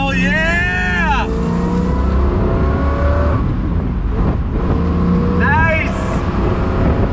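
A 1966 Corvette Stingray 427 pulling away in first gear, its engine roaring loud and close as the pitch climbs twice with a gear change between, while someone speaks over the noise.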